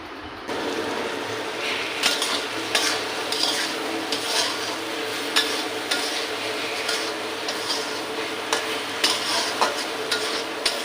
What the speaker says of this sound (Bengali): এখন আমি রাতের জন্য রান্না করছি যে আলু চচ্চড়ি আর ভাত সাধারণ